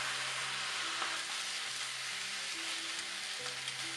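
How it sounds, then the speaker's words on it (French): Rice noodles being stir-fried with Chinese broccoli and sauce, giving a dense, even sizzle throughout under a low, steady kitchen hum. "Ajoutez les pâtes de riz, la sauce de cuisson"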